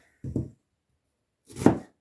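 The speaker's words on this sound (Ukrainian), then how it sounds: "І нарізаю цю цибулю теж" Knife finely chopping onion on a board for a meat-filled pastry, heard as two short separate bursts of cutting strokes close up, with a quiet pause between them and no talking.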